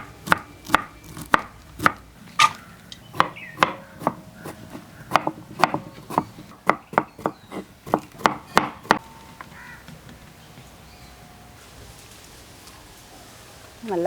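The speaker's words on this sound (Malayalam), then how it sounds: "ഈ ഒരു പൊങ്ങ് മുഴുവൻ നമുക്ക് ഇതേപോലത്തെ ചെറിയ ചെറിയ കഷ്ണങ്ങളാക്കി അരിഞ്ഞെടുക്കണം" Knife chopping coconut sprout (pongu) into small pieces on a board: a run of crisp, close, evenly spaced chops, several per second, that stops partway through, leaving quiet room tone.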